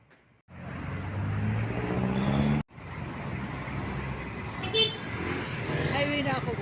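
Cars pulling out and passing on a road in the Philippines, a steady close engine and tire roar that cuts out briefly and then resumes, with a higher engine note passing partway through.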